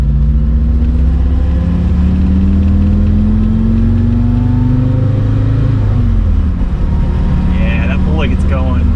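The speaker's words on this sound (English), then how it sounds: "My AC compressor delete pulley was making a terrible chattering sound at certain points in the rev range" A 2.5L five-cylinder engine swapped into a 1980 Rabbit pickup, with an AC compressor delete pulley, revs loudly and continuously. The pitch climbs and then drops, with metallic chatter mixed in near the end.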